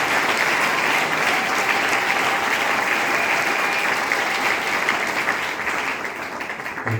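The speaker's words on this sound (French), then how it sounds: "Est-ce qu'on peut acclamer très fort pour ce temps de" A church congregation applauds loudly and steadily at a morning service, dense clapping filling the space without pause and easing slightly toward the end.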